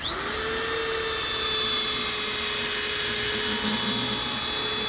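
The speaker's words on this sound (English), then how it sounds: "let the sanding disc do the work" A sanding disc on a power tool working the top of a Pac-Man arcade machine dome; a continuous high-pitched whine at an even, steady speed, close and loud, with no talking.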